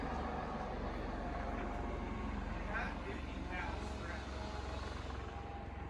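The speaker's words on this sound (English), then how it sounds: "There's been this crazy helicopter flying over my house all day" A steady, droning engine rumble fills the air continuously, like a helicopter overhead, with a faint voice briefly audible beneath it.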